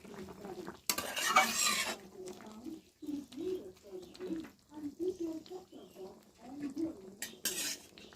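Egg and lentil fritters (bora) stirred into curry gravy in a pan: a clatter of a spoon against the pan, then soft, low, wet scraping and sloshing strokes in a steady rhythm. The sound is close but quiet.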